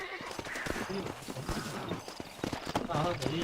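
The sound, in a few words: horse hooves and neighing in Red Dead Redemption video game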